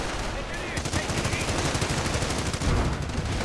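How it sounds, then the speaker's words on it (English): Heavy machine gun fire in a World War II real-time strategy video game rattles in rapid, continuous bursts, loud and close, layered with other gunfire and battle noise. "Machine gun firing away, engineers not yet suppressed."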